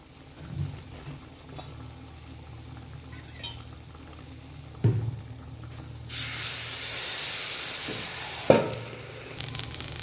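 Green tomatoes cook in a pan with a little added water, sizzling softly with occasional stirring clatters, then a loud steady hiss of steam and spitting rises as the water hits the hot pan.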